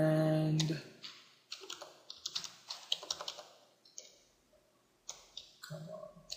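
Keystrokes clatter on a computer keyboard while someone types up a basic HTML page, a few close, crisp clicks in short bursts separated by pauses, opening on a brief tonal chime.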